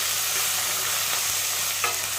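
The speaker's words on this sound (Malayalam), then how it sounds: "ഒന്ന് ഇളക്കി കൊടുക്കാം." Vegetables with a pinch of salt stirred in a pan, giving a steady soft sizzle with light scraping throughout and one brief clink near the end, close and unaccompanied by voices.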